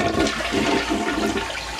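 A toilet flushes after its newly repaired flush lever is pushed, a loud, close rush of water filling the short moment without pause or voices.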